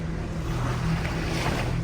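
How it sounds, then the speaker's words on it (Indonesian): Ocean waves washing onto a sandy beach on a coast, a steady broad roar of surf mixed with wind buffeting the microphone, close and continuous. "untung aja ombak di sini nggak begitu besar"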